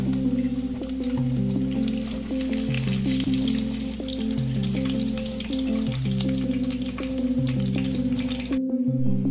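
Soya cheese balls coated in breadcrumbs deep-fry in plenty of oil in a kadhai, a continuous fizzing sizzle running under steady background music.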